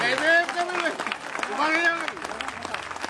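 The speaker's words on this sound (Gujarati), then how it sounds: "એક જબરદસ્ત તાળીઓનો આવકાર" Crowd applause at a Dalit movement rally in Gujarat patters steadily beneath someone speaking loudly over a public address system.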